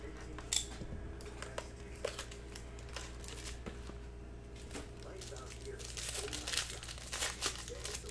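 Hockey card packs of 2019-20 Upper Deck SP Game Used are torn and handled, with crinkling wrapper foil, rips and shuffling cards, fairly close, amid low murmuring voices.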